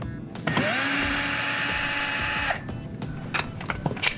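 A power drill whirs in one sustained two-second burst as it backs Phillips screws out of the bottom access panel of a Samsung dishwasher, close and loud, followed by light handling clatter.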